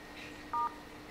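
A single short telephone keypad DTMF tone from a phone menu, about a tenth of a second, clear over faint background hiss.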